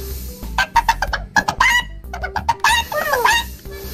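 A chicken in the video game GTA 5 gives a quick series of loud, sharp clucks and squawks in uneven bursts, close up, with no talk over it.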